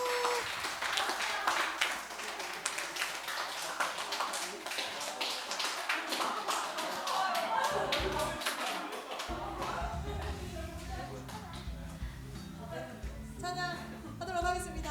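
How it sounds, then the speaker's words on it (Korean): Sustained applause from a church youth service congregation, steady dense clapping throughout, with music and voices mixed in underneath toward the end. "많은 박수 부탁드립니다."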